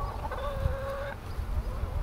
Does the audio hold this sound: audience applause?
no